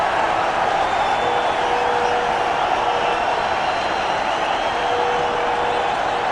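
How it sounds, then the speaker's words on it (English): Cricket stadium crowd at an India vs England one-day international, a steady, broad roar of cheering that holds level throughout, dense and unbroken, after a wicket falls to Ashwin. "The crowd very happy."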